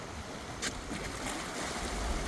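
Water roars steadily out of the Clearwater Lake Dam spillway in Missouri, a continuous broadband rush heard alone at a moderate distance.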